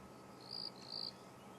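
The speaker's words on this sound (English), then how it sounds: "You can hear the odd cricket that's come out as a result of the rain." A cricket chirps faintly on a quiet evening after rain at dusk in the African bush. Two short, high trills about half a second apart stand out against soft background hush, with no talk.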